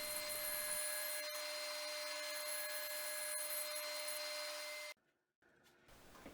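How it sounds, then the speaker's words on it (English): An angle grinder with a flap disc rough-sands the inside curves of a wooden hammer handle in a shed. A loud, continuous abrasive roar runs for about five seconds, then stops abruptly, leaving faint rustling and handling noise. "The flap disc on the angle grinder is a really good rough sander, just to get those inside curves"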